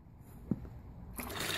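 Water is poured a gallon at a time into a container to mix a termite treatment: a soft thump, then a steady, close splashing rush that builds toward the end.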